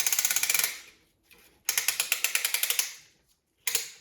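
A hand ratchet cranks in quick bursts of sharp clicks during an in-frame Jeep 4.0 engine rebuild, with three separate runs of clicking and pauses between them, close up and clear.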